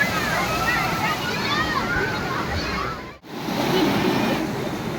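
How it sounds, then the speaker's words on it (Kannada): Water released into a canal near Balmuri Falls rushes through with force, a continuous loud roar and slosh that carries on steadily apart from a brief dip. "ಸೊ ಸಖತ್ ಫೋರ್ಸಲ್ಲಿ ನೀರು ಕಾವಲೆಗೆ ಹೋಗ್ತಾ ಇತ್ತು."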